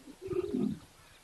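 A single soft, low cooing call from a dove or pigeon, brief and fairly close, rising then falling over about half a second against a quiet outdoor background.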